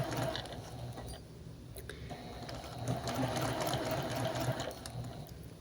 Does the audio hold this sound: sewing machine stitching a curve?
yes